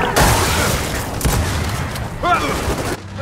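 Shots fired at a snatcher creature in Gears of War 4 ring out in a dense, loud stream of bursts and booms, with a pair of heavy reports early on and a voice shouting over the chaos.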